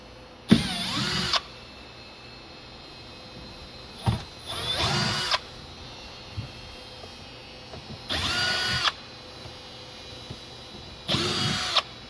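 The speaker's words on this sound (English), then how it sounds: "You just need to remove these 4 screws." Power drill backing out four screws from an appliance panel, heard as four separate whirring bursts of about a second each with short pauses between, close and moderately loud over a quiet room.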